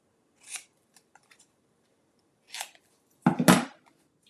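Scissors trimming material during box crafting: a few isolated crisp snips spaced apart with small handling clicks between, ending in a louder, closer double cut.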